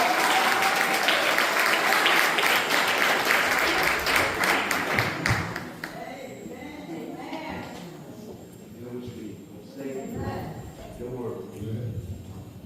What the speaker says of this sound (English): Can y'all clap for that?